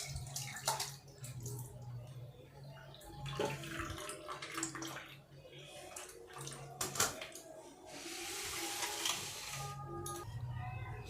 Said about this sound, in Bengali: এবারে আলুটিকে আমরা একটা ছাঁকনির উপরে ঢেলে ছেঁকে নেব।